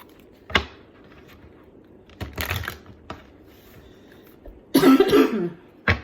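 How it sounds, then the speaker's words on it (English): A few short coughs and throat clearing, close by, scattered among light keyboard tapping, with a heavier coughing burst near the end. "This cough is so ugly."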